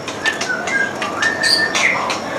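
A white-rumped shama (murai batu) sings clear, close whistled phrases: several rising and falling notes in quick succession, loud and alone with no talking.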